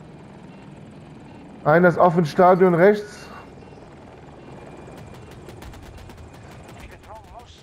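A KA-520 Super Hokum helicopter in a video game on the Hourglass map passes with a loud, wavering rotor and engine whine for about a second. Then the scene settles into softer game noise with faint gunfire, while someone talks in German.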